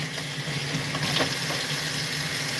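A kitchen tap runs steadily while ginger root is washed beneath it, a close continuous splash and hiss of water with small shifts as the root is handled.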